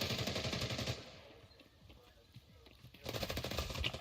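Gunfire from a distant sniper in the game Escape from Tarkov, with dense rattling bursts at the start and end of the clip and a quieter stretch between them. A voice talks over it.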